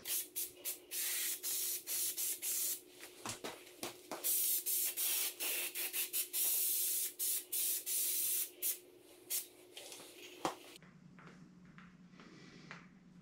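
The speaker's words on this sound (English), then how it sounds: "I like to spray some here and then spray whatever area I need to cover here" Spray adhesive hisses from a can in repeated close bursts, some short and some sustained, onto the rear seat cover of a 1971 Volkswagen Super Beetle, then stops and leaves a quiet room.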